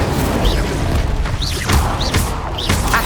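Incendio fire spell cast in Hogwarts Legacy, a series of loud whooshing fiery bursts about every half second, dense and close with booming impacts, no talk over them.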